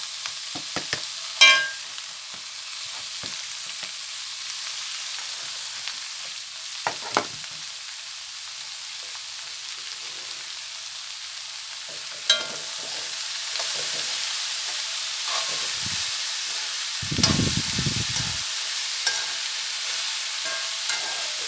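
Chopped bitter gourd, ginger, green chilli and onion stir-fry in a pan, with sporadic sizzling bursts and scraping stirs breaking up long quiet stretches.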